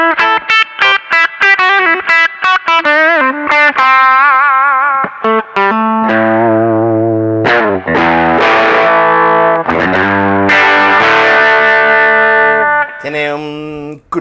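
Squier Telecaster Thinline 70s electric guitar through a mild crunch distortion, played as loud, ringing chords and single-note lines with sustained notes, close and alone with no talk.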